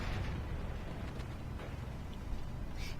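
A rumbling blast from the Steel Division World War II strategy game, with Canadian and British airborne forces fighting German Fallschirmjäger and SS units, sounds as a steady low roar with crackle, loud and continuous throughout.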